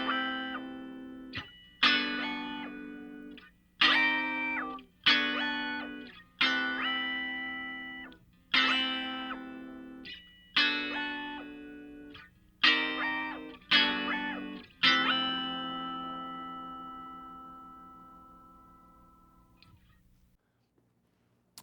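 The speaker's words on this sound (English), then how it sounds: "I'm going to combine dry output with a voice that's a fifth above the guitar's pitch." An electric guitar runs through an Electro Harmonix HOG, mixing the dry signal with a voice a fifth above that bends up an octave. About ten effected chords swell and decay, and the last one rings out into silence.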